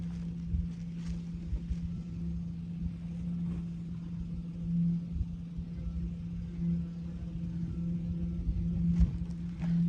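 A Subaru truck driving, heard from inside as a quiet, steady low engine drone with a faint hum and occasional soft bumps throughout, no voices.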